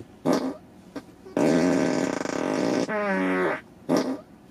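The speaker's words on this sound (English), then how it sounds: "you can make the car fart on demand" A series of loud, sputtering fart noises from a Tesla Model Y's built-in sound effect, a short one, a long buzzy blast, a wobbling one, then another short burst, spaced apart.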